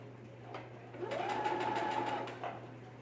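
A sewing machine stitches a fabric face mask, a short close burst of rapid mechanical stitching running about a second and a half, with quieter taps before and after.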